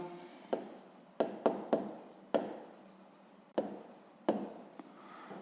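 A pen scratches numbers into a maths exercise book, soft close strokes and taps in short irregular bursts against a quiet room.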